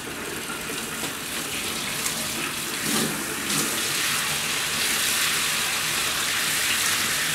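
Cold water runs steadily from the tap of an outdoor utility sink, a continuous close splashing gush that holds an even level throughout with no voices.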